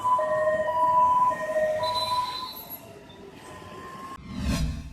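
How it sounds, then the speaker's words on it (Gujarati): Ambulance siren wailing along city roads in Surat, a steady rising-and-falling tone over traffic rumble that fades midway, then a close vehicle rush at the end. "સુરત શહેરના રસ્તાઓ પર દોડતી એમ્બ્યુલન્સ આમ તો સામાન્ય છે, પરંતુ આજે દોડતી આ એમ્બ્યુલન્સ અલગ છે"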